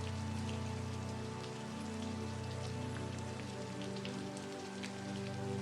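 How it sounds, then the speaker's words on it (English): Rain falling on glass, a dense, even patter of drops that continues without a break for several seconds, close and soft, with no voices. "Rain on the glass"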